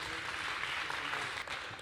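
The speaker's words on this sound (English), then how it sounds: "This round of applause is for you." A conference audience claps at the close of an event, a continuous dense patter of many hands heard alone throughout the short stretch.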